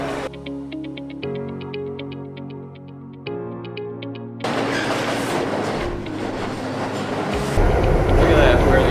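A New York City subway train starts out under a stretch of tinkly, rhythmic music, then a loud, rushing rumble of the moving car takes over and grows steadily louder.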